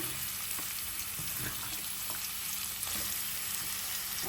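Onions dropped into a pan of hot oil while making beef curry, a continuous quiet hiss of frying with faint scattered stirring taps, close and steady, no talking.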